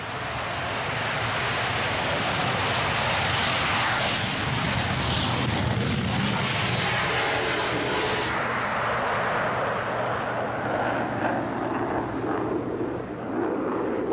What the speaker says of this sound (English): the colossal combined thrust of two R-31 engines fires the 37-ton fighter down the